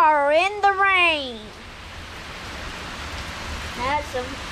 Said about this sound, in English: That's some hard rain.